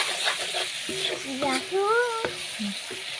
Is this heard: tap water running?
no